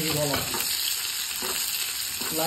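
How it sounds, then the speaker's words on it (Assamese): Garlic, ginger and onion frying in hot mustard oil, a steady close sizzle running throughout with occasional stirring scrapes, no voices. "তেলটো গৰম হোৱাৰ পিছত ধুনীয়াকৈ নহৰুখিনি আদাখিনি পিঁয়াজখিনি ইয়াতে দি দিব"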